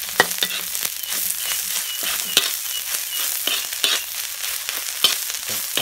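Spices stir-fried for Thai fish larb made with silver barb, a steady crackling sizzle with scraping stir strokes recurring through the whole stretch, close and moderately loud, no voices.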